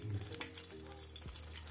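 Cut eggplants fry in hot oil in a kadai, giving a faint, steady sizzle over a low background hum.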